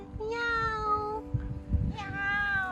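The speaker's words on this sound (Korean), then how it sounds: "야옹이 어디 갔?" A cat in Okinawa gives two clear, drawn-out meows close by, separated by a short pause filled with faint rustling and quiet background noise.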